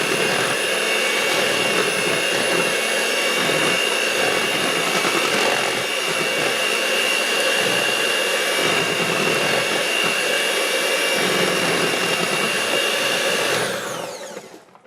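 An electric mixer whirs through protein pancake batter with a loud, steady motor drone that holds close and unbroken before winding down at the very end, with no talking.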